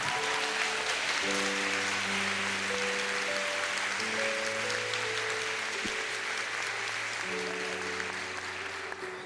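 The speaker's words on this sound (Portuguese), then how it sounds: "Pode aplaudir para valer" Audience applause at a Catholic religious gathering, a broad wash of clapping heard under sustained organ or keyboard chords that play throughout.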